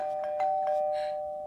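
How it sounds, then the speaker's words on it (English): A doorbell rings with a sustained clear electronic tone and a few brief chiming accents, heard alone at moderate volume. "Right, the doorbell."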